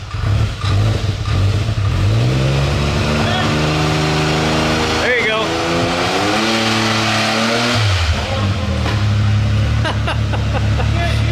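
The Beast Mode X3 car roars through a burnout, its loud engine rising and falling in pitch over several long revs, with a loping idle at the start and end and voices talking over it.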